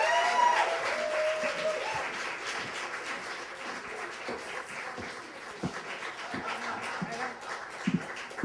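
Audience applause welcomes a reader onto the stage at a summer literary reading, a broad, steady wash of clapping that starts full and slowly thins, with a few sharp isolated claps and faint crowd murmur near the end.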